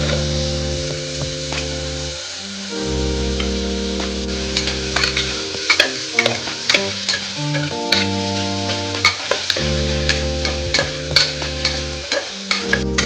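Mutton masala frying in a pan over a high flame, a steady sizzle broken by repeated sharp scraping and clacking stirs, close and loud with no voices.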